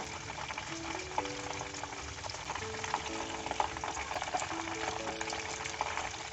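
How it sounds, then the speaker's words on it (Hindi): Chicken wings for lollipop chicken fry in oil over a high flame, giving a steady, soft crackling sizzle with faint bubbling that carries on evenly throughout, no talking. "मैंने फ्लेम को तेज़ किया है ताकि इसके अंदर से ऑयल सारा निकल जाए।"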